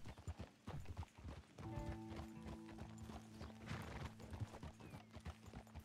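A horse in the video game Red Dead Redemption 2 clip-clops along at a steady gait, with a neigh and tonal game sounds layered over the hoofbeats.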